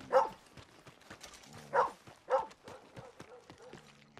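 A dog in Red Dead Redemption 2 gives three sharp barks spaced apart, with hoofbeats clopping faintly underneath.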